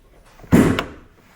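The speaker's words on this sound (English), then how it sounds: "Open the driver's side door, release the primary hood release lever." A car door on a 2011-2016 Hyundai Elantra opens or the hood release lever is pulled, giving a single sharp, close mechanical clunk with a brief rattling tail and no voices.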